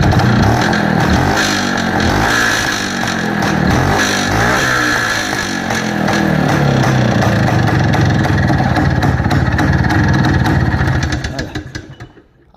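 A farm motorcycle engine revved hard with the throttle, loud and close, rising and falling through several blips before settling into a steady high rev and then cutting back to idle at the end.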